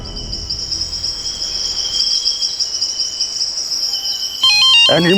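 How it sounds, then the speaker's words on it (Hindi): A steady chirping ring loops for several seconds over a dull background, and a louder burst of electronic tones breaks in just before the end. "इस वक्त किसका फोन है?"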